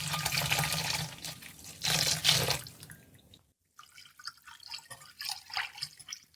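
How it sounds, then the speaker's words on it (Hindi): Milk poured into a mixture in a karahi for a dhoda sweet, a splashing liquid gush in two bursts, then a short silence followed by softer trickling and dripping sounds. "अब हम बाकी का दूध इसमें शामिल कर लेंगे।"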